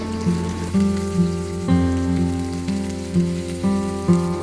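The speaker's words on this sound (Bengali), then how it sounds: "পেঁয়াজটাকে একটু লালচে করে ভেজে নিলাম" Oil sizzles steadily as chopped onions fry in a pan, a continuous crackling hiss with a faint tonal hum behind it.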